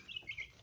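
Newly hatched chicks about nine days old, part of a small flock of ten poultry birds, give faint, high, brief peeps in a short burst with a low background hum.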